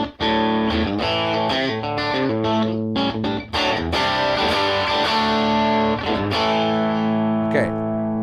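Electric guitar played through a Fractal amp modeler with the main cabinet impulse response switched on, heard as a sustained, distorted chordal riff that runs loud and continuous with no talk.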